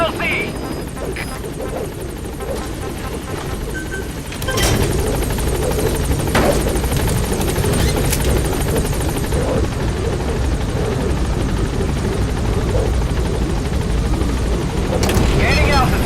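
The Pequod helicopter from Metal Gear Solid V: The Phantom Pain hovers at a landing zone with a constant loud rotor drone that swells after a few seconds, while a radio voice speaks over it.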